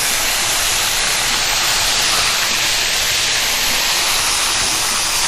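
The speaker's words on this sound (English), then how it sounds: "Our chicken is frying up really," Chicken fries in a pan for an Asian and soul food fusion dish, giving off a loud, unbroken sizzling hiss that stays even throughout.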